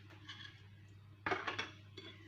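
A spoon clinks and scrapes against a bowl while vegetable filling of buckwheat and mushrooms is mixed with beaten egg, in a few short close clattering bursts separated by pauses.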